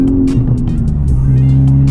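A car cruises steadily along a road right after a canyon run with other Type Rs, its loud engine drone and tire roar running continuously up close.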